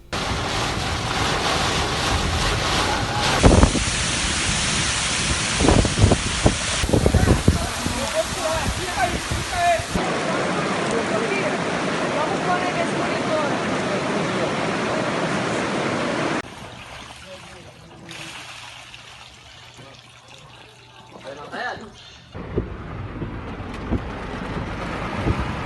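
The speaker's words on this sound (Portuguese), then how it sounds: "Olha só a chuva." Heavy rain pours across a flooded film set, a broad steady wash of falling water and wind buffeting the microphone, with voices talking over it; the downpour thins and quiets briefly near the end before swelling again.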